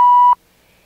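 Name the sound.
filmstrip projector advance beep tone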